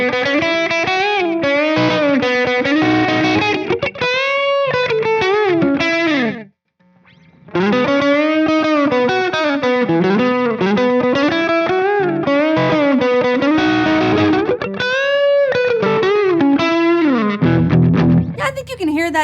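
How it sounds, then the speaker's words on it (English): A Fender Player II Telecaster with high-gain distortion plays a loud, saturated riff with sustained chords and bent notes, pausing briefly midway before continuing. "once you get into really high gain territory, it all kind of sounds a little samey to me."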